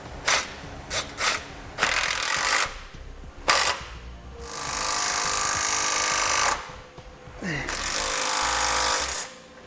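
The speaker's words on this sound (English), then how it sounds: "Next we'll use a 14mm socket and wrench, and we'll tighten all of our hardware." Hardware being tightened with a 14mm socket and wrench while mounting a Blue Ox base plate kit on a 2017 GMC Acadia, with short ratcheting bursts, then longer sustained ratchet runs close by, alongside talk.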